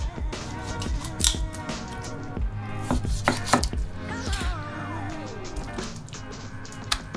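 Raw chicken being cut into pieces on a board, knife strokes through flesh and sharp cleaver smacks against bone landing at irregular intervals, close and crisp, with a light scraping in between.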